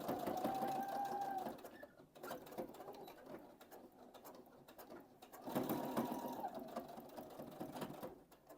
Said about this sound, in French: je vais faire la piqûre de maintien en rabattant la parmenture à l'intérieur et en piquant juste ici